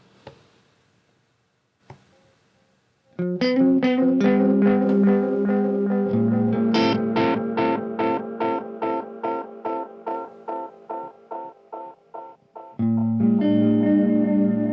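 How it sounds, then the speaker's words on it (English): Electric guitar chords ring out, then rhythmic choppy pulses repeat steadily before a sustained chord returns; the effected, swirling guitar is auto-panned back and forth, sampled through a Roland SP-404 MKII. "there's auto panning, moving that guitar and weaving it around back and forth"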